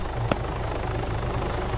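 A helicopter in Arma 3 Altis Life drones steadily with a constant rotor thrum and one brief sharp knock early on, with no voices over it.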